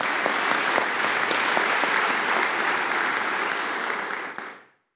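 Sustained audience applause in a meeting hall at a tea growers' gathering. Dense, even clapping runs throughout with a few sharper individual claps and stops abruptly near the end.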